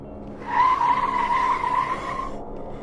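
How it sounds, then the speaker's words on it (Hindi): A car brakes hard on a road, its tires letting out a sustained, loud skidding squeal for about two seconds before fading as the vehicle jerks to a stop. "गाड़ी की ब्रेक लगकर गाड़ी एक झटके में रुक गई"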